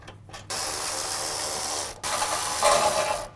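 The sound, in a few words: loosening 12 mm bumper bolts on a Subaru Crosstrek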